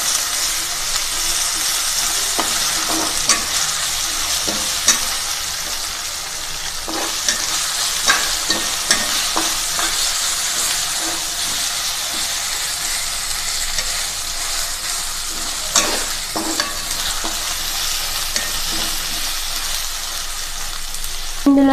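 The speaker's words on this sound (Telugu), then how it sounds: "అల్లం పేస్ట్ కూడా గోల్డ్ కలర్లోకి వచ్చే బాగా మంచిగా వేయించుకోవాలి." Ginger paste frying and being stirred in a pan for chicken curry, a steady close sizzle with frequent scraping stir strokes throughout.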